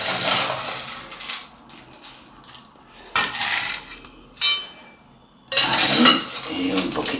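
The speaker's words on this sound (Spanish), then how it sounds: "ahora le vamos a añadir hielo picado. Echamos hielo picado." Crushed ice scooped and tipped into a glass for a vodka cocktail, with loud clattering and crunching bursts between quieter clinks, close by.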